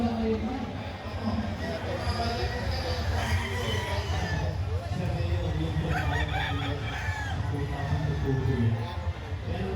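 A bulik broodcock crowing among other clucking and crowing chickens, with a steady busy background of fowl and people talking throughout.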